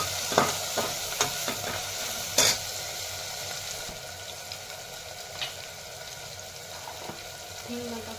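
Whole spices frying in oil in a pan for spiced rice, a continuous bright sizzle with scattered sharp pops and the clink of a stirring spoon, loudest early and settling into a steady hiss.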